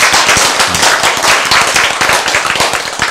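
An audience at a lecture claps in a dense, rapid patter of many hands, close and loud, holding steady for a few seconds.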